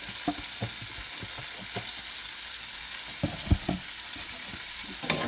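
Chicken pieces sizzle and fry in a pan for paprika chicken, a steady broadband hiss broken by several sharp utensil scrapes and clinks as pieces are moved and lifted out.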